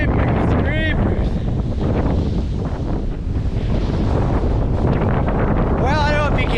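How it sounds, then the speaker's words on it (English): Strong outdoor wind buffets the microphone on a farm, a loud continuous low roar that fills the whole stretch, with brief tonal squeaks or whistles rising through it. "the way that wind is blowing, it's really blowing"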